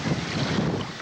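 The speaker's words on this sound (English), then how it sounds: "It is a very windy day today" Steady wind buffeting and rumbling across a microphone outdoors, loud and continuous with no voices.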